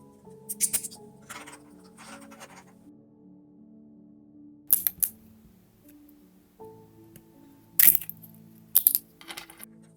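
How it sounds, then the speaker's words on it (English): Sharp cracks and snaps of walnut shells being split open with scissors, a few separate bursts close up over a quiet background with light handling noise between them. "Then, I carefully crack them open with scissors."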